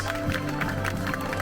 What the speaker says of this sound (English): Let's give a massive round of applause for the crew of Ambience.